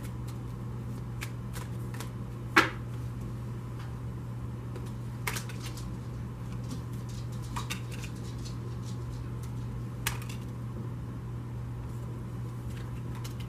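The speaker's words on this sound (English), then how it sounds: "I'm only going to shuffle for a minute until the guides tell me to stop." Tarot cards are shuffled quietly, with soft sporadic riffles and taps over a low steady hum.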